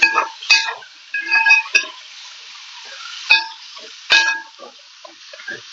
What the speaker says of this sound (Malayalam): എന്നിട്ട് നമുക്കിതാ ഒന്നും കൂടി നന്നായിട്ട് ഒന്ന് ഇളക്കി കൊടുക്കാം